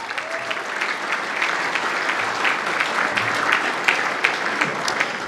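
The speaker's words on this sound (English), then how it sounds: "Can we get a round of applause for both clubs?" A ballroom crowd at a football league awards night applauds both clubs, a steady dense wash of clapping that holds evenly throughout with a few sharper claps standing out.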